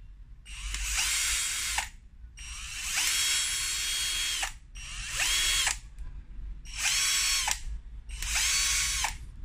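An INGCO 18V cordless impact screwdriver whirs in five sustained bursts of a few seconds each, close and loud, with brief pauses between runs.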